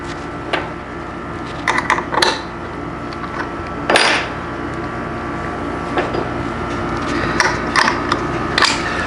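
A CNC machine carving a wooden trinket tray runs with a continuous mechanical whir and hum, broken by irregular scraping and clunking bursts as the cutter works the wood, with no talk.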